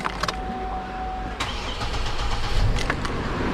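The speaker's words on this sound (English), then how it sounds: "Time for starting the engine." A 2007 Chevrolet Trailblazer with the 4.2L engine and leaking, low power steering fluid starts up close by: a brief starter crank catches, then the motor settles into a steady, slightly rising idle.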